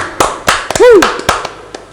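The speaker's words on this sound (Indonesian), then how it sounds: "Sebelumnya kita tepuk tangan buat Tante Alin." A handful of sharp, scattered hand claps, with a swooping whistle-like tone in the middle and voices around it.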